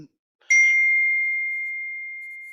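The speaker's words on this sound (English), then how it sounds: "somebody rang a bell" A single bell is struck once, a bright clear ding that rings out and slowly fades over two seconds, loud and close after a brief silence, heard alone during an online peace day program.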